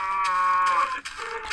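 Cows mooing in the video game Minecraft, a few drawn-out, tonal low calls in quick succession, heard up close and alone with no talking.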